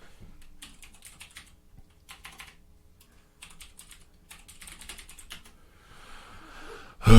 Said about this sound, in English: Why can't I type?